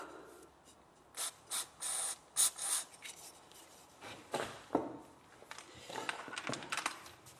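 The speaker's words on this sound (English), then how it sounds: "We're going to drop a easing oil." Penetrating easing oil hisses from an aerosol in several short, close bursts onto a Peugeot 206 axle part, followed by rubbing, clicking and metallic handling sounds.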